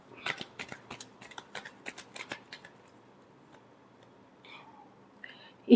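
Tarot cards get shuffled in quick, crisp riffling bursts at close range, a clustered run of flicks that gives way to near silence and then a couple of faint rustles and a sharp tap at the very end.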